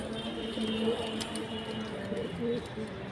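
Pigeons in a loft give soft, repeated throaty coos, close by and moderately quiet over a faint background hum.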